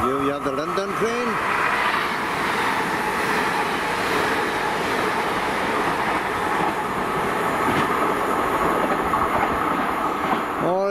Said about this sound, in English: Here we have the London train.